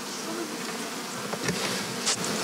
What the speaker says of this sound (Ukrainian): Це молода пчела. Вона тільки що, ну, вона повернулася з вулики, да, возле нього упала.